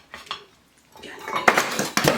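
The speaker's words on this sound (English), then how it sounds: "it's my spoon that fell" A metal spoon drops with clattering rattles against a bowl and utensils while fruit salad is being mixed, a couple of sharp bright impacts following quieter stirring sounds at close range.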